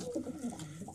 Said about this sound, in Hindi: ये कबूतरी बहुत गुस्से भरी है